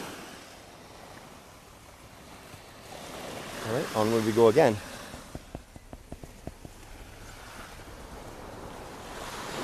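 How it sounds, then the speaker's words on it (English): Gentle low-tide ocean waves lap onto the sand along the shore between Alleynes Bay and Folkestone Park, a soft steady wash heard close by, with brief speech partway through and a few light clicks. "It's just beautiful, all the lapping onto the sand."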